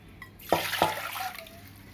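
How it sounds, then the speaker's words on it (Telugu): Water splashes into a bowl in two quick pours, followed by a brief trickling and settling sound. "బౌల్లో వాటర్ వేసుకోవాలి"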